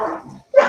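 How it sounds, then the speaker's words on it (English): A puppy gives two close, loud barks in quick succession, each a short sharp yap with a brief silent gap between them. "Watch it because the puppy's out there."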